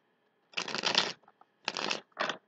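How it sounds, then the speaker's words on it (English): Tarot cards shuffled close up by hand, three quick riffling bursts of crisp card flutter separated by short pauses, with no talking. "I like to give them a last bit of a shuffle while I'm actually recording with you."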